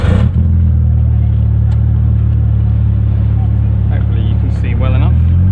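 An MG Midget fitted with a K series engine and a lower ratio differential drives along, its engine a steady loud rumbling drone heard close up from inside the car, with a slight rise in revs toward the end.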